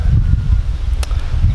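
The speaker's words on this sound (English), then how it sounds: "I'm trying my best, but it is really windy today" Strong wind buffets the microphone outdoors at Cambodia's Killing Fields, a loud, continuous low rumble with a faint rustle and one brief sharp click.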